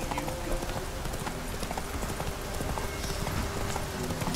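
Horse hooves clip-clopping steadily in The Witcher 3: Wild Hunt, a continuous patter of hoofbeats under game music and ambient noise, with a brief whinny possible.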